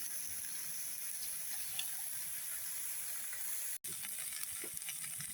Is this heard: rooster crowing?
no